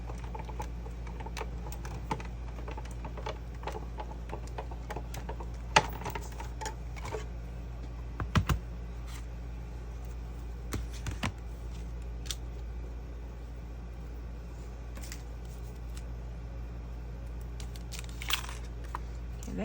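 Die-cutting machine running a die through: a low steady hum continues throughout, with scattered faint clicks and a few sharper cracks and crunches as the die passes through the machine.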